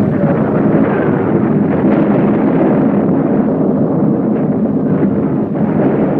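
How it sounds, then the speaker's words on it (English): Mass artillery barrage from the Soviet offensive at Stalingrad on 19 November 1942: a dense, continuous roar of overlapping blasts and rumble, loud and unbroken throughout, with no pauses between the detonations. "A crushing mass artillery blow was launched on the 19th of November."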